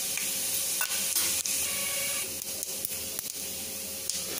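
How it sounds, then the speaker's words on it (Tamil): Fennel and cumin seeds splutter and crackle in hot sesame oil in a pan for mushroom gravy, giving a steady close hiss dotted with small pops. "சோம்பும் சீரகம் பொரிஞ்சதுக்கப்புறமா"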